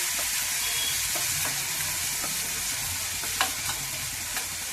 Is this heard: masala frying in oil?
yes